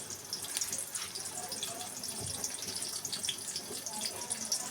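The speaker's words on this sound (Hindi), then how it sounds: "हमने इसके अंदर ये प्याज डाल दिए।" Chopped onions sizzle in hot oil in a pot over a medium flame while cooking aloo kofta curry. A steady, fairly close hiss and crackle runs throughout, with no talking.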